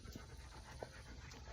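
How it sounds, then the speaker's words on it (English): A dog pants quietly in a steady, faint rhythm of breaths close by indoors, with only low room hum and no talk. "here's my doggy."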